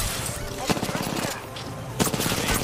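Rapid bursts of gunfire from the Nessie weapon in a shooter video game, loud and near, firing in quick repeated volleys.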